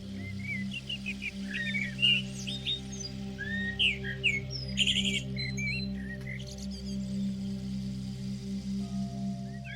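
A blackbird sings in a run of varied, fluting, whistled phrases that carry on and off for about ten seconds over a steady low ambient drone, with other chirps mixed in.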